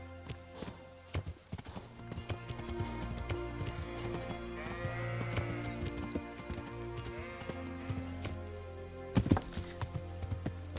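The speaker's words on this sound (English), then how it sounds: "it's somebody's sheep pen" Sheep bleat from a pen in the medieval game Kingdom Come: Deliverance, with several calls rising over the steady clip-clop of horse hooves. Occasional dull thunks break in, and no one speaks.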